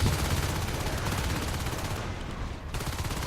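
Heavy, continuous shotgun fire during a competitive video game match, dense overlapping blasts sustained throughout with no pauses.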